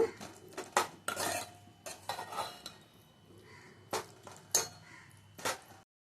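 Raw mango curry with tomato being stirred in a pan, a metal spoon scraping and clinking against the pan in several uneven bursts, close and clear.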